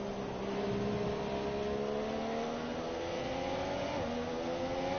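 Racing car engine in the video game F1 2017 at the Brazil circuit, a steady, continuous high engine drone with shifting rev tones, running on its own without talk.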